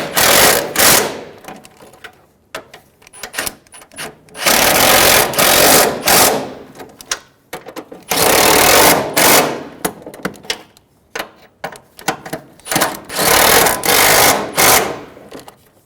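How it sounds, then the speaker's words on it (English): A power impact tool rattles on the transmission mount bolts of a 2000-2007 Ford Focus with a 2.0L four-cylinder engine, loud and close, in several long bursts separated by brief pauses. "Snug the outside bolts down."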